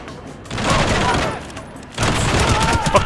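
Bursts of gunfire in the video game The Bourne Conspiracy crackle continuously, with a short lull before another loud volley of rapid shots.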